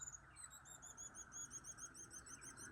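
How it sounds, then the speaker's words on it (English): Small birds sing in a leafy garden planted with buddleias, quick high chirps and trills repeating continuously, faint and somewhat distant over a soft background. "Can you hear the birds?"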